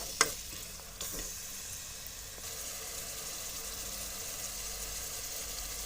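Masala for masoor dal, with chillies in it, frying in a pan makes a steady close sizzle throughout, with a couple of brief clatters near the start.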